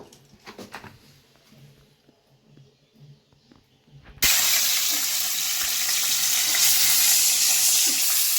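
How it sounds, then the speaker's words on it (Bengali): Fish goes into hot oil: after a few quiet seconds of faint kitchen handling, a sudden loud, sustained sizzle of frying bursts in and holds steady. "আমি এখন তেল দিয়ে মাছ ভাজাটা করে নেব।"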